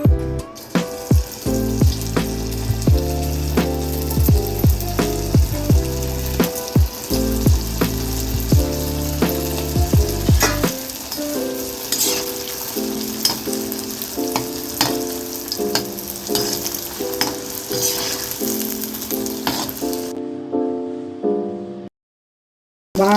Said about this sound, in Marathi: आता आपण हे तळून घेऊया.